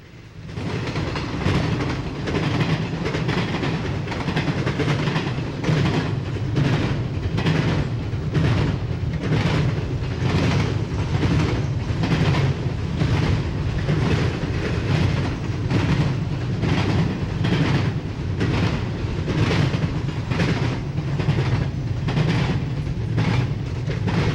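A 7,000-foot freight train of container flats passes close by, a loud, continuous rumble with a steady rhythmic clickety-clack of wheels over rail joints running throughout, with no speech.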